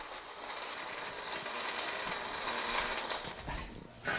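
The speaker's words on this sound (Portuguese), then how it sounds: "Então nós vamos preparar essa farinha de rosca aqui. Esse liquidificador grande." A large blender grinds bread into coarse breadcrumbs, giving a steady, fairly loud motor roar with gritty rattling that holds for about four seconds and surges at the end.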